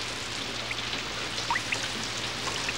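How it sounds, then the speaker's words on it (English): Steady patter of rain falling indoors in a bedroom through a leaking roof, with scattered drops plinking nearby, a continuous soft hiss throughout with no voices. "It's raining in my bedroom."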